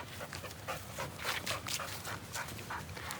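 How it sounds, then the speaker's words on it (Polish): A dog on a long training leash runs in a park and pants rapidly and rhythmically, with close, continuous breathy huffs and no talking. "Komendę tę możesz wykorzystać także, jeśli twój pies biega po parku, na przykład na lince."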